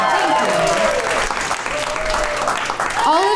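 A large comedy show audience claps steadily throughout, a dense continuous wash of applause with a few voices faintly mixed in.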